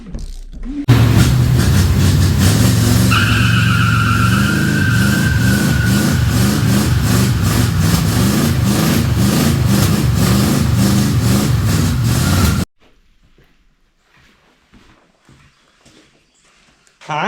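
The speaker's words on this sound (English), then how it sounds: "I'll put a little clip of her doing a burnout quick right here." A 1957 Chevy engine roars loud and steady through a burnout for about twelve seconds, with a rising whine partway through, then cuts off to near quiet, with faint sounds in the background afterward.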